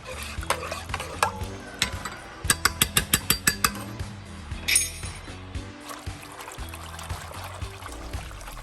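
Fish sauce goes into a warming broth in a home kitchen while a metal utensil stirs, with repeated close clinks and taps against the pot, a quick rapid run of knocks, and soft liquid sloshing between them.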